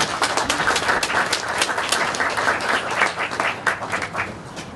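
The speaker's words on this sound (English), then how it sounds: "So give them both a round of applause, please." An audience at a school open house applauds, with dense, steady clapping from many hands close by that continues throughout without talk.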